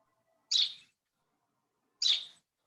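House sparrows at a backyard bird feeder give two short, bright chirps spaced well apart, each alone against near silence.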